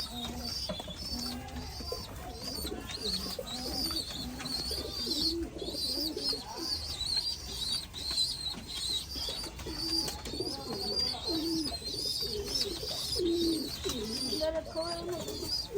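Pigeons coo steadily while feeding their chicks, low throaty calls rising and falling throughout, with occasional chirps and people talking nearby over a constant background hiss.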